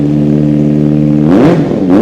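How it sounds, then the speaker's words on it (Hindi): A used superbike with about 2,600 km on it idles with a steady mid-pitched drone, then revs up sharply twice, the second blip shorter. The engine sits close and loud, with no talk over it. "और बाइक का जो साउंड है ना,"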